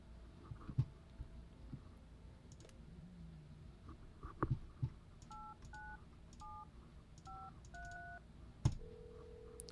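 Touch-tone phone number dialed in the horror video game No I'm Not a Human: a short series of paired DTMF beeps in quick bursts, then a longer steady tone, over a faint low background with a few scattered clicks.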